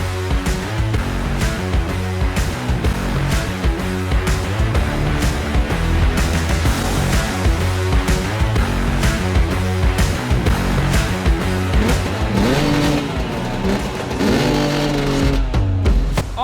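Two-stroke motocross bikes racing at the VMXDN Hawkstone event, a continuous loud buzzing of high-revving engines with rising and falling pitch as bikes accelerate and shift, dense and close throughout.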